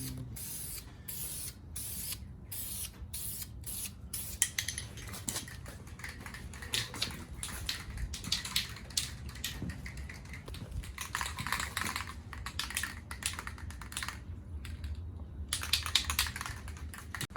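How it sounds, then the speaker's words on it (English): Spray painting of 2019 Ford Raptor wheels in black: a series of short, quiet hissing bursts with brief pauses between, then more continuous spraying, with no one talking. "he's getting ready to spray over here"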